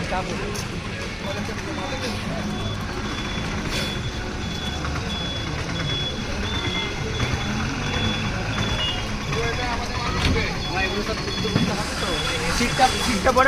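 A bus reversing with its warning beeps sounding steadily over a rumbling engine and busy street noise, with people talking nearby throughout.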